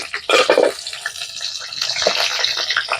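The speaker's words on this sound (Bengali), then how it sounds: "কড়াটা গরম হয়ে গিয়েছে, আমি প্রথমে তেজপাতা দিয়ে দিচ্ছি, দুটো কাঁচা লঙ্কা দিয়ে দিচ্ছি" Bay leaf and two green chillies hit a hot pan, a sudden loud crackling, spattering sizzle that bursts in near and then settles into a steady busy hiss with small pops, no voices over it.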